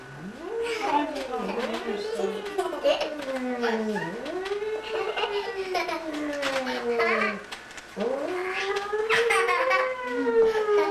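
A police car siren wails with rising and falling tones, loud and close, sounding in repeated cycles alongside overlapping voices and chatter.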